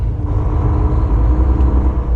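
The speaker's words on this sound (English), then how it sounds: "This is a Cat semi-truck you'll see pass in front of us here." A Caterpillar-engined semi-truck passes nearby with a low, steady diesel rumble, heavy and close, lasting the whole short stretch without voices.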